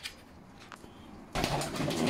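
Pigeons being fed up close, with a brief wing flap early on, then a sudden loud burst of flapping wings and scuffling that continues to the end; no speech.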